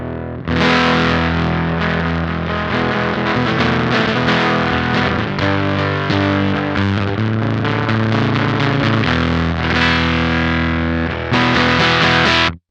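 Electric guitar runs through a Beetronics Octahive V2 fuzz pedal as the pre control rises, loud saturated fuzzy strums and chords ringing for several seconds, briefly cutting out and returning before a final stop, with no speech.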